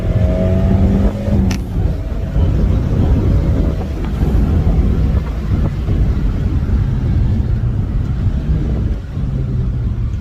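A Peugeot 405 T16 engine drones and surges loudly from inside the car, rising and falling steadily under heavy wind and road rumble, with no talking.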